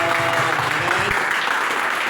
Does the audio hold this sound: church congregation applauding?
yes